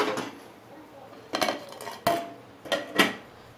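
A lid goes onto a cooking pot in a home kitchen, a few close metallic clanks and clinks spaced out over a few seconds with soft rattling between them.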